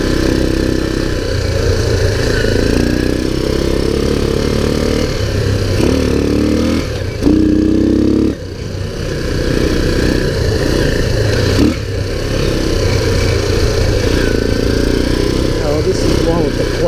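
A 2001 Kawasaki Bayou 300 ATV engine runs steadily at a mid pitch with a few brief blips in revs, close and loud, with talk over it.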